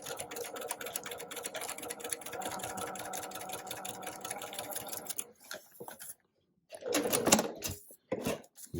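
A sewing machine stitches a New York Beauty quilt block seam in a fast, steady mechanical rhythm that runs for several seconds, then stops, followed by brief handling clatter and rustling.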